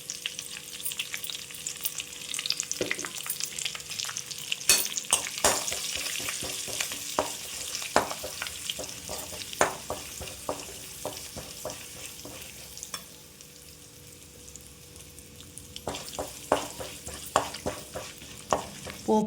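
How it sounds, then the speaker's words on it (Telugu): Cumin, mustard seeds, curry leaves and dried chillies tempering in hot oil for a sesame chutney, giving a steady close sizzle with scattered crackling pops and stirring clicks, no talk. "ఆయిల్ వేడైన తర్వాత జీలకర్ర, ఆవాలు, కరివేపాకు, ఎండుమిర్చి వేసుకోవాలండి."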